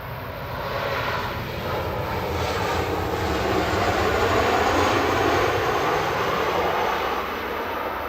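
A Ryanair Boeing 737 MAX 8-200 jet arrives at Manchester Airport: a loud, continuous engine roar and whine that swells and then eases slightly, heard alone without talk.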